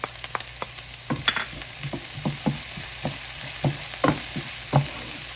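Chopped green pepper frying with onion in a pan on medium-high heat, a steady sizzle broken by repeated spatula stirs and scrapes at an irregular pace, close and clear with no talking.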